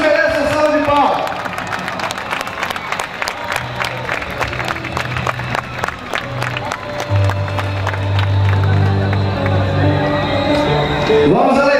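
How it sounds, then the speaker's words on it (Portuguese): A crowd at a Christian street march claps steadily for several seconds, the applause dense and sustained, with scattered voices and a low sung or hummed tone underneath. "Jesus merece a salva de palmas."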